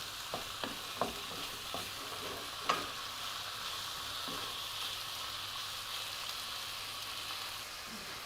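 Pork and salted fish are stir-fried in a pan with a steady low sizzle, while a spatula scrapes and taps against the pan a few times early on, close but fairly quiet.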